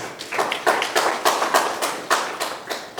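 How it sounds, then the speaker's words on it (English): A small group claps steadily in a quick, even rhythm at a Ghana NHIA regional performance review meeting, the claps crisp and fairly close, with no talking over them. "I think management deserves a clap on this one too"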